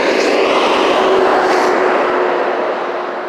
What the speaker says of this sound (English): it's super loud here with these 18 wheeler trucks